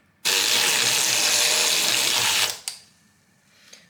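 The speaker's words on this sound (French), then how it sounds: "je vais prendre mon mélangeur électrique, là, mon mousseur à lait normalement" Small electric milk frother whirring in a cup as it blends powder into water, a steady high buzz for about two seconds that stops abruptly, followed by faint clinks.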